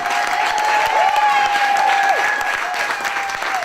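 Theatre audience applauding a singer at a concert in a playhouse, broad continuous clapping with a sustained tone from the stage ringing above it, moderately loud and steady.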